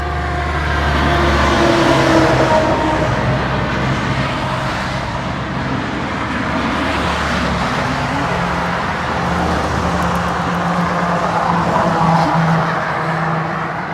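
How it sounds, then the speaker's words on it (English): Steady road traffic on a busy highway, with a big truck rumbling past close by; loud, continuous low engine and tyre roar rising and falling over fourteen seconds, no talk. "And here comes some traffic. And we got a big truck."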